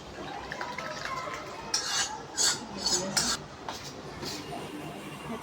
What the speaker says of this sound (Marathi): आता हे लोणचं सगळं मिक्स झालंय, मस्त सगळा मसाला लागलाय.